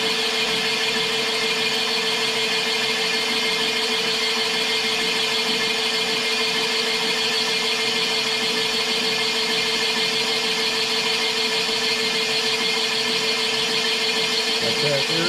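A boring machine cutting into an engine cylinder gives a steady, loud mechanical whine and drone with constant tone from start to finish.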